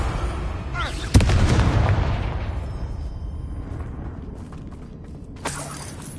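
Two Confringo spell blasts in the Hogwarts Legacy video game: a sharp crack and heavy boom that roll into a long fading rumble, then a second, smaller burst with a bright shattering edge near the end.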